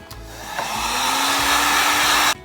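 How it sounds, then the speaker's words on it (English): A hair dryer blows to dry watercolor paint, a loud steady whooshing hum with a faint rising motor whine that switches on near the start and cuts off abruptly. "I'm gonna give it one more little blow dry just to dry those stars"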